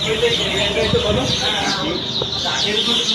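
Day-old broiler chicks fill the air with a dense, continuous chorus of high, thin cheeps, close and loud, while someone talks over them.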